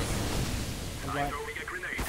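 A flashbang grenade detonating during a Counter-Strike match, a dense blast of noise filling the whole moment with tonal game effects layered over it near the end.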